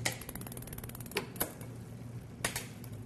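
Bicycle chain rubbing on a derailleur gear, a faint, continuous metallic ticking and scraping with a few sharper clicks, close and alone.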